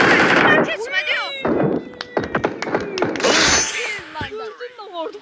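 Gunfire in the PUBG Mobile battle royale game, sharp shots crackling through a short stretch amid excited voices talking over the action.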